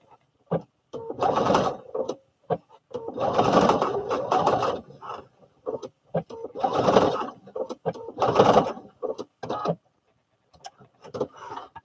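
Sewing machine stitching a baby fall protection pillow runs in several short bursts of fast mechanical chatter, separated by brief pauses and clicks, fairly close and loud.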